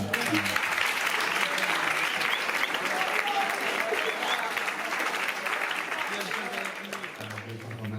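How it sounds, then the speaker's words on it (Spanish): Sustained audience applause at a public event in Jaraíz de la Vera, Cáceres, a dense wash of many hands clapping with a voice speaking over it and music-like tones at the start and end. "un fuerte aplauso para..."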